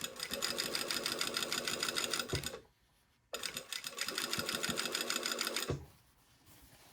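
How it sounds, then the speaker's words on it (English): A sewing machine runs a basting stitch along an invisible zipper in two steady whirring bursts, separated by a brief pause, with the second run stopping short near the end. "So I'm just starting at the top, and this is with a basting stitch."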